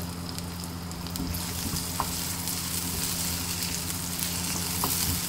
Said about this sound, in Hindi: वो डाल के हम इसको हल्का सा सौते करेंगे।